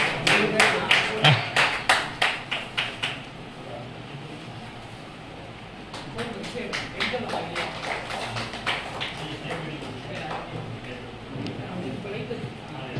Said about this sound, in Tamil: கை தட்டுங்க.